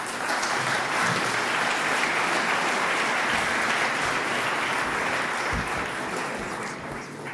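A room full of people applauds at a French cybersecurity trophy ceremony, steady dense clapping sustained at full level for several seconds before easing slightly near the end.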